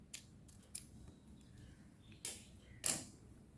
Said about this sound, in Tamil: ஸோ நான் இதோடு என்ன பண்ணிக்கிறேன் அப்படின்னா கட் பண்ணிக்கிறேன்.